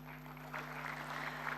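Audience applause at an inaugural ceremony, a faint, steady wash of many hands clapping that swells slightly after the first half-second and carries on evenly to the end.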